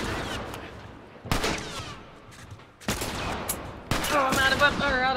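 Gunfire in the video game The Last of Us, several sharp bursts of shots separated by brief lulls, with a game voice heard among them.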